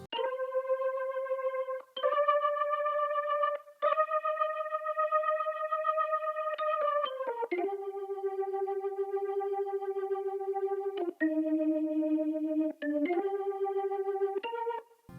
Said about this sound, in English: So this is the A section of the organ.